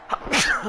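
A single short sneeze during a Madden 21 gaming session, near and fairly loud, lasting well under a second and clipped against a spoken word.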